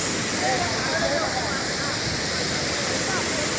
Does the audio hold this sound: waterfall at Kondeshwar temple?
yes